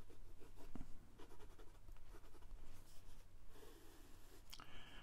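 A Ferris Wheel Press Carousel fountain pen with a medium steel nib writes on paper, making a faint, continuous scratching with light strokes and small taps, close up and quiet.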